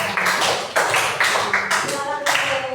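Elementary school pupils in a classroom clap together in quick rhythmic bursts to honor a group that has just presented, with several loud, even beats filling the short stretch.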